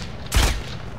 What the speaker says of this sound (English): Someone was shooting at me.